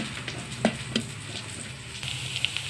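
Onions and green chillies fry in a pan with an oily, steady sizzle, a close bubbling hiss broken by a few soft pops and clinks of stirring, with no talking.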